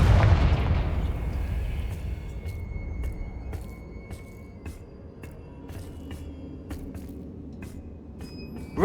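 A Confringo spell explosion in the Hogwarts Legacy game, one loud booming blast at the start that rumbles and decays, followed by scattered sharp crackles and small pops as the debris settles.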